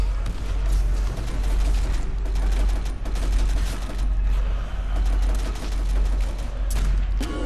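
Gunfire fills the zombie survival stage Nacht der Untoten in a Call of Duty-style video game, with rapid shots and bursts repeating over a steady low rumble. Voices talk in the background.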